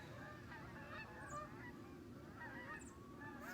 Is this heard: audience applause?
no